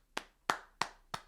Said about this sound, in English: We're clapping it up.